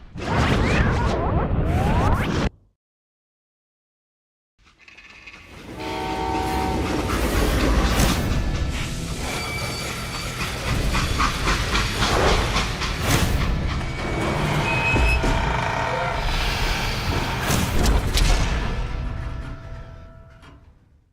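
Freight train in the Western video game Call of Juarez Gunslinger, a brief burst of noise, a pause of silence, then a loud rolling rumble with rhythmic clickety-clack of wheels and a blaring horn and whistle.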